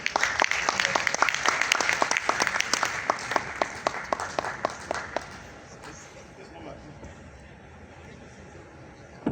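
Audience applause fills a conference hall after a biotechnology speech in Abuja, a dense burst of clapping that runs strong for several seconds, then thins and fades to scattered claps and room murmur.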